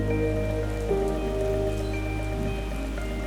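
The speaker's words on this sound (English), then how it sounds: "Yeah, got a little rain coming down." Rain falling on surfaces along a rail trail on a bicycle tour, a steady close patter over a constant low hum, with no voices.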